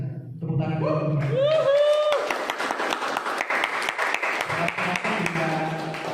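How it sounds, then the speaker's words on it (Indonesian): An audience at a Roblox Indonesia community recap event breaks into applause, a dense clatter of many hands clapping at close range, with a few voices and cheers at the start before the clapping carries on steadily. "Tepuk tangan dulu."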